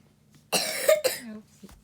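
A child gives a couple of quick, close coughs in a quiet room, a short burst followed by a second softer one.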